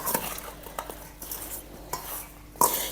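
Galgal (hill lemon) pickle with sugar being stirred and mixed by hand, giving scattered scraping clinks of a spoon against a metal pot, with a sharper clatter near the end; no talking.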